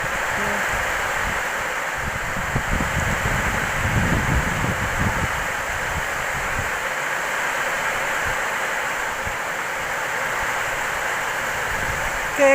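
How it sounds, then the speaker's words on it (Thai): A steady, loud roar of strong wind fills the scene without pause, rushing and gusting continuously like surf. "ลมแรงมากครับผมขอปิดหน้าต่างกันนะครับ"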